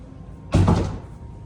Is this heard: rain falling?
no